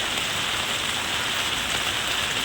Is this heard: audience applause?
no